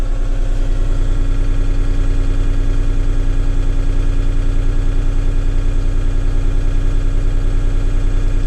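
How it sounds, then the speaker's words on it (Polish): A New Holland T4 tractor's three-cylinder diesel engine runs steadily at about 1200 rpm, a loud, even idle-like throb with a constant low pulsing hum and no voices. "tak ogólnie jest ta charakterystyczna praca silnika trzycylindrowego"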